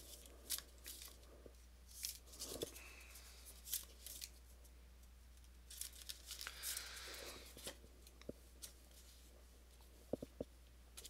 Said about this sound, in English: And we'll shuffle this deck too.